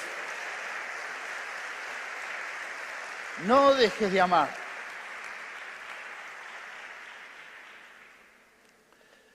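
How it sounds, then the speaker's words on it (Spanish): A church congregation applauds after a sermon, a dense, steady wash of clapping that holds for about eight seconds before fading away, with a short spoken phrase from the preacher rising over it midway. "Le damos un aplauso al Señor."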